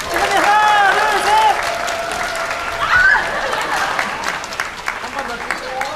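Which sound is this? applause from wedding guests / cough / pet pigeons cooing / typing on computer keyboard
applause from wedding guests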